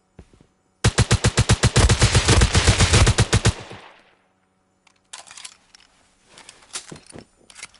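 A snowball launcher fires in the survival game Rust: a dense, loud burst of rapid repeated shots for about three seconds, then a pause and scattered softer clattering thuds.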